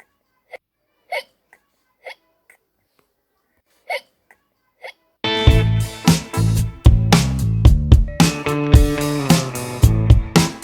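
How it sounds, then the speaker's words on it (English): A cartoon ghost character hiccups, several short sharp gulping bursts spaced a second or so apart, followed by loud busy music with percussive hits taking over. "Oh, now I've got the hiccups."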